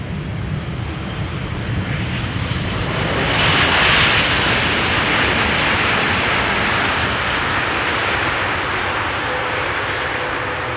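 Airliner PH-BHF, ten years old, arrives at Amsterdam Schiphol from Ecuador with a loud, close jet roar that builds to a hissing peak as it passes and then settles into a steady rumble, with no talking.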